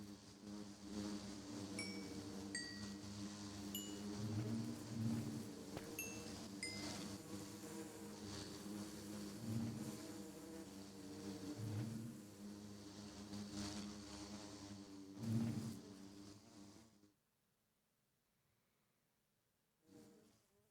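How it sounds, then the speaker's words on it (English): Steady droning buzz of Minecraft bees sits near and continuous with small pitched chimes over it, then cuts off abruptly near the end, leaving quiet. "Can I see how many bees are in these?"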